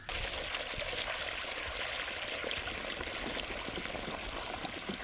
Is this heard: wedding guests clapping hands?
no